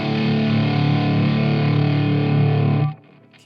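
Electric guitar driven through a Valco fuzz pedal, either the KGB or the Bloodbuzz, plays one loud, thick, sustained distorted chord that rings steadily for nearly three seconds and then cuts off abruptly, leaving only a faint tail.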